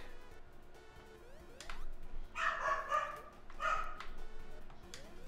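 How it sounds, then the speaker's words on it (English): A dog in a video game barks in a few loud, close bursts over steady background game music and effects. "I am not shutting that damn dog up either"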